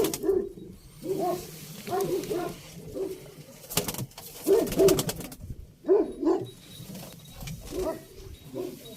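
Pigeons coo in a repeated rhythmic series of soft, throaty calls, close and clear, with a faint background hum and no talking.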